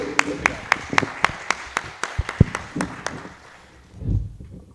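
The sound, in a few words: audience applause for a speaker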